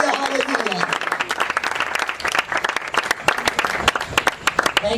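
Church prayer audience bursts into sustained applause for Jesus at a healing service in Faisalabad, dense clapping from many hands filling the room throughout, with a voice speaking over it early on.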